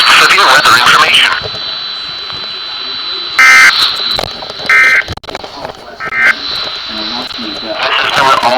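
Emergency Alert System tones broadcast over NOAA Weather Radio in Muncie during a tornado watch: loud, steady high alert tones with repeated short data bursts, with announcer speech before and after.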